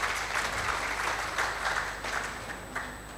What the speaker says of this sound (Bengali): আমরা একটা জোরে একটা করতালির মাধ্যমে আমরা অনুষ্ঠানটা শুরু করি।